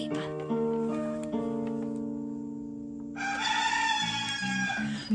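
A rooster's cock-a-doodle-doo crowing rings out inside a children's farm-animal song, with sustained musical tones running throughout and a brighter, busier burst of sound in the final two seconds.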